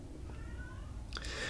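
A kitten lets out a short, high meow near the end, preceded by faint soft whining tones over a quiet, low room hum.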